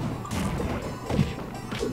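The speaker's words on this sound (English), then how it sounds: "It gets down smash off stage." Several punchy hit impacts from a down smash attack in Super Smash Bros Project M, three or four crashing thwacks within a couple of seconds over game background noise.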